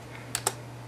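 Two quick, quiet keystrokes on a computer keyboard while a web address is typed, crisp clicks close together against low background hum.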